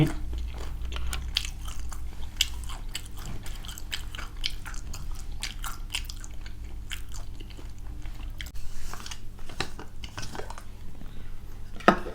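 Crispy fried chicken is bitten and chewed up close, with repeated sharp crunches and wet chewing in an irregular rhythm, eaten alone without talk.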